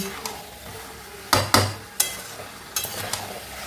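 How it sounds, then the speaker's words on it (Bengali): Mutton masala being sautéed on medium-high heat, with a few sharp spoon scrapes and clanks against the pan in quick bursts over a faint background sizzle, close by and without speech. "এইবার গ্যাসটা মিডিয়াম টু হাইতে রেখে কষাবো যতক্ষণ না পুরো তেলটা ছাড়বে"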